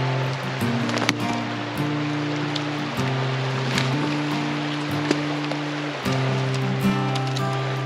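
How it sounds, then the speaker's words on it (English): Creek water rushing through a forest wilderness, making a steady broad wash close to the listener, with a low tonal drone that shifts pitch now and then, and brief knocks and splashes. "Here comes the creek."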